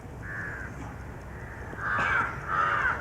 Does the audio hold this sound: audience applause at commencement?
no